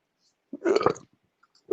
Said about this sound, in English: almost threw up when I burped there